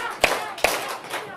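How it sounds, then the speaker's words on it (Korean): Children at a church kids' event clap in unison, two sharp close claps about half a second apart followed by a softer, less distinct one. "박수 3번 시작!"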